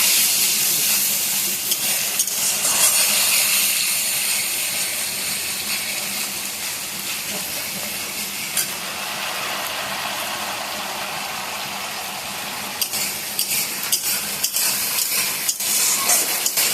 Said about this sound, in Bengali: মশলাটা একটু ভালো করে কষাতে হবে